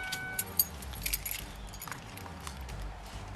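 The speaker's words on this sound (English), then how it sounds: "Turn off the car and pass me the keys" Car keys jangle in a few quick bright bursts as they are handed over during a roadside traffic stop on a wet road, close and clear over a low rumble of the car.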